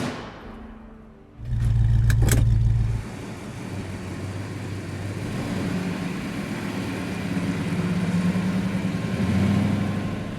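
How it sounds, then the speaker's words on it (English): A 1966 Dodge Coronet 500 with a 426 Hemi V8 roars up in a loud, brief rev burst, then settles into a steady, rumbling drive, heard up close with no voices. "Driving this 1966 Dodge Coronet like my grandpa was able to race back in the day is completely different than driving a modern car"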